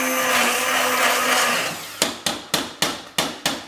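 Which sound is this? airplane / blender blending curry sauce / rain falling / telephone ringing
blender blending curry sauce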